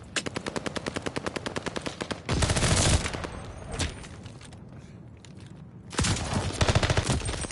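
Rapid machine-gun fire in Call of Duty: Vanguard, a fast steady stream of close, loud shots, a heavy burst, then quieter shuffling before another loud volley at the end.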